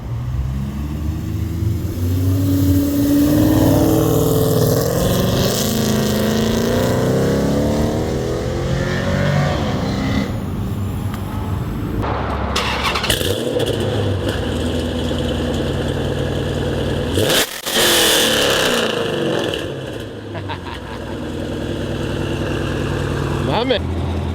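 A 6.1 Hemi V8 with long tube headers and rear-exiting tips rumbles and idles, then blips and revs up and down. The engine is close and loud, with people talking nearby.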